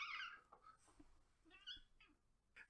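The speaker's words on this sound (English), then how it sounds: "our cat is losing its mind" A pet cat meows several times, starting with a loud, drawn-out cry and followed by shorter, fainter mews spaced irregularly in a quiet room.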